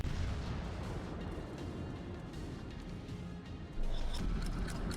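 Naval artillery fire in the World of Warships game: a dense, continuous rumble of heavy booms and blasts, loud and close, with a sharper burst near the end.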